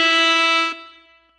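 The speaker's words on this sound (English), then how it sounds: "That's an air horn." A single loud, brassy air horn blast sounds for under a second, then cuts off and rings briefly as it fades.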